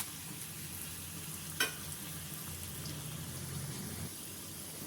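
Garlic, bay leaf, cumin and dry chili fry in hot oil for a tempering, giving a faint, steady hiss and sizzle with one brief clink partway through.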